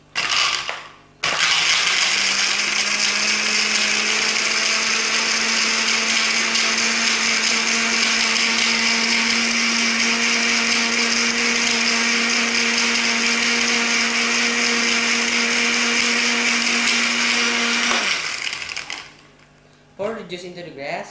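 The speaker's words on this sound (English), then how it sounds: "Fifth, blend them." An electric blender whirs loudly as it blends avocado, sugar and water into juice, starting abruptly after a brief burst and running at a steady high pitch for roughly sixteen seconds before cutting off.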